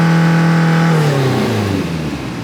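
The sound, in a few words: JDM project car engine revving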